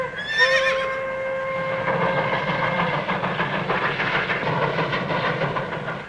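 A horse gives a loud whinny in a Western film, with an engine-like rumble and rhythmic clatter continuing steadily underneath for several seconds.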